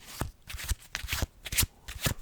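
Rapid riffling bursts of a deck of Bicycle playing cards being shuffled, several quick flurries of crisp paper snaps close up, with brief pauses between them.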